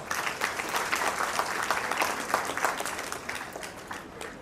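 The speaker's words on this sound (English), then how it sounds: "let's give a huge round of applause to all our parents" Audience at a school annual day show applauds the parents, a steady spread of clapping from a crowd, moderately loud and continuous.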